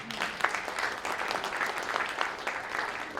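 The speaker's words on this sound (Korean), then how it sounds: "박수 한번 부탁드리겠습니다." An audience at a Christian prayer breakfast applauds, a dense, steady round of clapping filling the hall for a few seconds.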